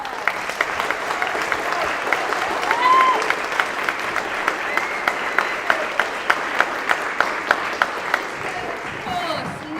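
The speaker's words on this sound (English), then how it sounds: "Can we have a round of applause for them?" An audience at a speech and debate festival gives a sustained round of applause, a broad wash of clapping with a run of sharp, evenly spaced claps standing out near the end before it fades.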